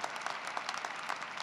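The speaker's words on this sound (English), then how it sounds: "Please give him a round of applause now." Audience applause at a university graduation ceremony for the class of 2020, a steady wash of many hands clapping at a moderate, fairly distant level with no voices standing out.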